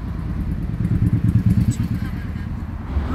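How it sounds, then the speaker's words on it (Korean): A Harley motorcycle rumbles past at moderate distance, its low throbbing exhaust pulses swelling in the middle and then fading, with no talk over it. "할리 오토바이를 사랑합니다."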